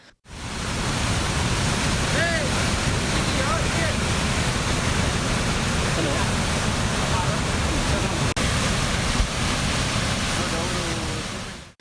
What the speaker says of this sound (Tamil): எர்ணாகுளம் மாவட்டம் கண்ணமலை செல்லானம் பகுதியில் பலத்த மழையால் கடல் சீற்றம் ஏற்பட்டது